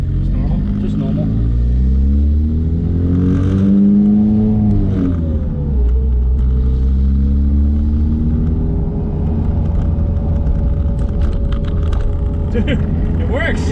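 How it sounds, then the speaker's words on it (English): A Porsche 996 with a swapped Honda K-series engine drones and rises in pitch as it accelerates down a street, heard from inside the car as a loud, steady rumble with people talking over it. "I'm driving down the street."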